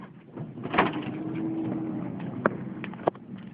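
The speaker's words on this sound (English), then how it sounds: "That is the correct operation of a door." The power sliding door of a 2008 Honda Odyssey, which has a latch actuator problem, opens with a short whirring motor hum and then two sharp latch clunks close by.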